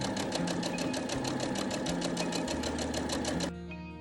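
A sewing machine stitches fabric in a fast, even rapid-fire rhythm of needle strokes, close and steady, before the run slows and stops near the end.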